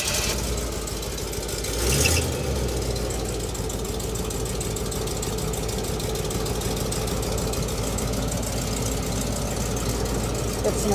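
A transit vehicle's engine with a power steering problem starts with a brief burst, then settles into a steady, rumbling idle that runs throughout, close by.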